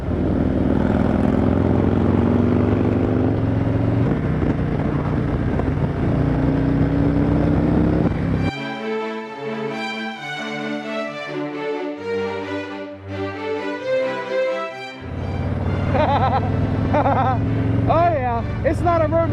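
A 2013 Harley-Davidson Sportster 1200 Custom runs with a loud, throaty engine drone that gives way to a stretch of music midway and then returns, with people talking.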